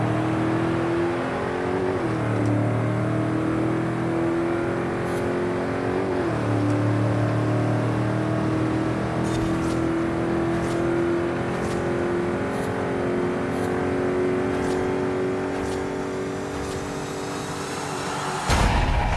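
A 1000 HP 1970 Chevelle drag car in Forza Horizon 5 roars hard down the strip, its engine note climbing through several gear shifts with brief dips between them in a long, loud, continuous pull, with tires losing traction at the start.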